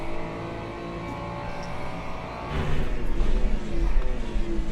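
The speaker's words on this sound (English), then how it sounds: "How do you like the sound of this car?" GT3 race car engine at speed during a race, a steady loud drone that swells into a deeper, harder-pulling roar partway through, heard continuously without talk.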